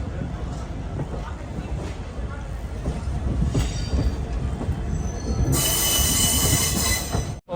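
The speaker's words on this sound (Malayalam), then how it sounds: "അങ്ങനെ യാത്ര ചെയ്ത് ഡൽഹി സറൈ റോഹില്ലയിലേക്ക് ഇതാ ട്രെയിൻ എത്തിക്കൊണ്ടിരിക്കുകയാണ്" A train on an AC Express run pulls through the yard into Delhi Sarai Rohilla, its wheels squealing loudly and continuously over a rumbling, rattling roll, with a sharp high screech swelling near the end.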